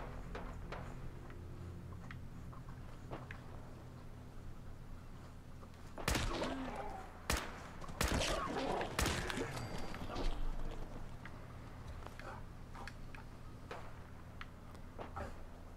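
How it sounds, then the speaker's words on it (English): Fallout 4 gunfire crackles in scattered bursts of sharp shots midway through, set against a steady low electronic hum. "Sounds like gunfire."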